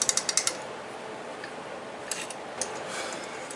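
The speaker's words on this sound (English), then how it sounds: "Now to torque the bolts." Bolts torqued on a rebuilt Stihl 036 chainsaw engine: a quick run of about six crisp ratchet clicks at the start, then a few scattered ticks and clicks over a quiet background hiss, close and alone.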